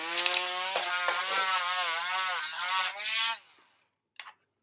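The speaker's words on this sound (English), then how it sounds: "So I'm gonna be drilling in here." Power drill boring into a plastic toy: a steady, wavering motor whine runs for about three seconds, then winds down, followed by one brief short burst.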